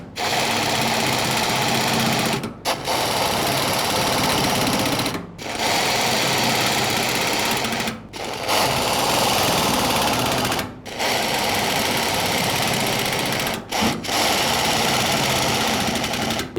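Power tool snugging the fuel tank mounting bolts on a 1998-2012 Ford Crown Victoria, a loud, steady rattling whir in long runs broken by short pauses, with no talking.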